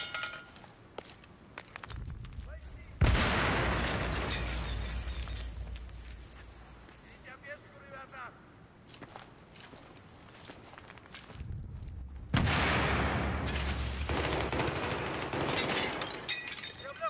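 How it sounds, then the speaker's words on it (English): Grenade blasts in a 5v5 shooter game, two sharp loud explosions several seconds apart, each followed by crackling, scattered debris and clinking over ongoing battle noise. "I'm throwing a grenade!"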